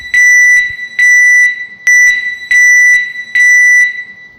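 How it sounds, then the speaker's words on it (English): A loud building fire alarm sounds in repeated piercing electronic bursts, about five half-second blasts with brief gaps between them, close and with no voices. "In the event of a fire, you will hear and see this alarm."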